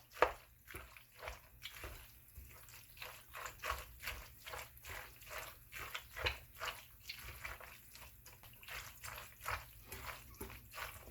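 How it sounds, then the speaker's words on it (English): Food in a pot is stirred after turmeric and black pepper go in. Soft wet squelches and light clicks repeat in an uneven rhythm, faint and close, with no talking. "And we give that a good mix."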